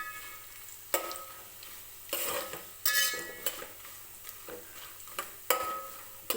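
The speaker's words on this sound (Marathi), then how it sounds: "तुपामध्येच मी हे खोबरं असं परतून घेणार आहे" Grated coconut fries in ghee while a utensil stirs it. A soft sizzle runs underneath, and a spoon scrapes and clinks against the pan at irregular moments, close and fairly quiet.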